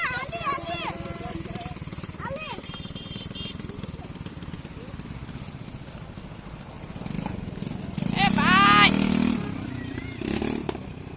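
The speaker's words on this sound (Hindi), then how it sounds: "पहले ट्रैक्टर को चालू कर लेते हैं" A Swaraj tractor's engine starts and runs with a rough, throbbing idle that swells louder near the end, heard beneath someone talking and other scattered sounds.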